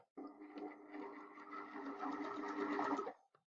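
A sewing machine stitches through paper along a spiral line in one continuous run of about three seconds, a close, even mechanical whir that starts and stops abruptly, with no talking.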